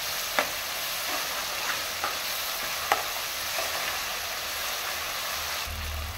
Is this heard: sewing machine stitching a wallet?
no